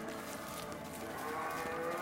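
Cows in a farm setting of the video game A Way Out give faint, drawn-out moos beneath a steady background ambience of game sound.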